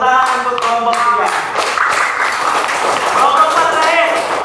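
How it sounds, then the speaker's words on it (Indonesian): A group claps for a team in a classroom or workshop setting, sharp hand claps close by, with voices talking and calling over the clapping throughout. "Tepuk tangan untuk kelompok 3."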